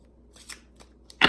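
A goddess card deck shuffled by hand in a quiet room: a few soft, brief riffles and flicks, faint at first and ending in a louder burst of card noise.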